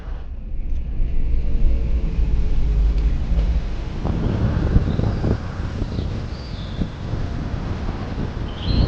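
A car climbs a mountain road through clouds in Kerala, heavy wind buffeting the microphone over a low, rumbling engine and tyre drone that stays loud and continuous throughout.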